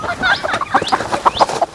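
Chicken clucking in a series of short, repeated bursts, fairly close and loud, with a bit of background voice noise; the bird is being handled and weighed.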